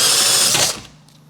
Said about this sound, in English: Right, so I'll just drill this hole out,